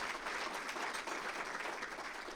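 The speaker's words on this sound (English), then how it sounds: "Give him another round of applause." A large audience at a regional State of the Region event applauds an introduced congressman, a soft, distant, continuous wash of clapping.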